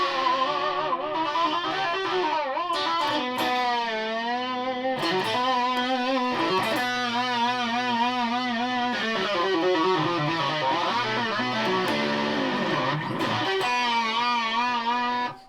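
A distorted electric guitar played through a distortion effects pedal plays sustained, bending notes and chords for a long stretch, gritty and loud throughout, with brief pauses between phrases.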